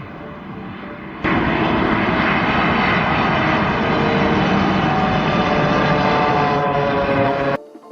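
Steady loud whirring drone of a small ram air turbine spinning beneath an aircraft fuselage, constant and close, starting abruptly and cutting off near the end.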